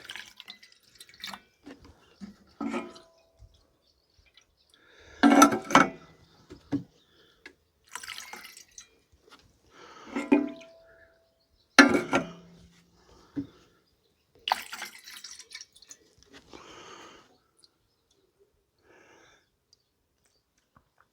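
Water trickles and drips into the header tank of an Allis tractor in intermittent bursts and splashes, separated by quiet gaps.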